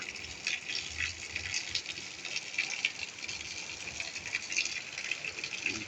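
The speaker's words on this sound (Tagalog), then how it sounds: "Ganyan lang po ang pag-ulan sa amin." Steady rain patters and rattles on a hard surface, a dense, even hiss with no voices.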